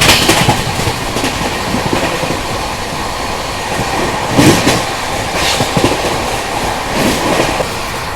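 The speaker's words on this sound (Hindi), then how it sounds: "जबरदस्त रफ्तार में अपनी दुरंतो एक्सप्रेस यहाँ पे भाग रही है" An AC Duronto Express from Hazrat Nizamuddin to Pune races at high speed, heard from on board as a loud, continuous roar with rattling wheels, rhythmic clatter over rail joints and occasional sharp swells.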